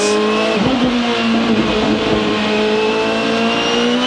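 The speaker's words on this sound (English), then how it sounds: "We're seeing cars sliding around down the other end of the racetrack where Justin Wilson is now." Champ Car race cars at the 2007 Mont-Tremblant race run on a wet track in heavy rain, their engines a loud, continuous high-pitched drone with shifting revs throughout.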